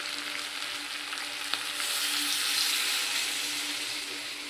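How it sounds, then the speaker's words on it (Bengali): Water is poured into a hot pan of winter-vegetable curry for rohu fish. A steady, close frying hiss swells into a louder, broader rush midway as the water hits, then settles into a bubbling sizzle. "এবার আমি জল দিয়ে দিচ্ছি"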